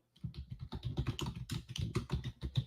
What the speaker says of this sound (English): I'm just typing it in our chat